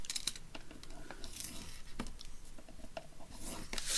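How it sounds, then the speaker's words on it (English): A scoreboard tool scores paper with short rubbing, scraping strokes, a few quick passes with small clicks and pauses between, close and fairly quiet, for collaged journaling cards. "I'm going to just score 1/2 an inch around each side"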